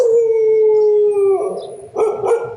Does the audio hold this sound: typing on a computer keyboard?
no